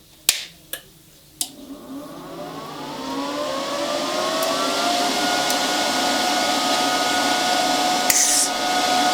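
Titanium Unlimited 200 welder with its cooling fan spinning up after a few sharp clicks, settling into a loud, steady whirring drone with rising tonal whine that fills the clip.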